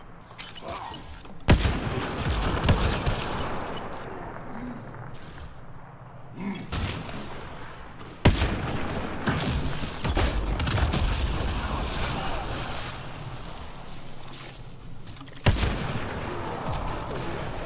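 Sniper and gunfire exchange in the video game Mass Effect: Andromeda: several sharp, loud shots with heavy booming tails, separated by stretches of rumbling combat ambience and mechanical noise.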